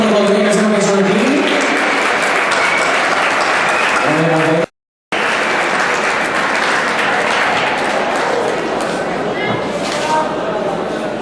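An audience at a village Pubilla and Hereu election applauds, a loud, continuous wash of clapping with a brief cut partway, while a voice speaks over the start.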